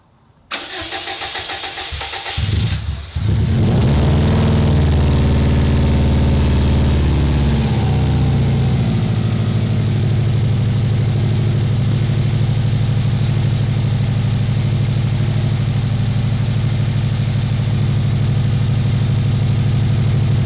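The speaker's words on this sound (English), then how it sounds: "But I'll start it up, let it idle, look around for some leaks, and and then we'll shut it off pretty soon after that." A Subaru WRX wagon's engine cranks briefly, catches and fires into a loud, close, steady idle that settles lower after a few seconds and runs on alone.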